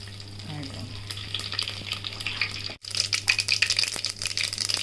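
Mustard seeds and dried chillies fry in hot oil in a clay pot, giving a steady loud sizzle with crackling pops. The sizzle breaks off briefly, then resumes even busier.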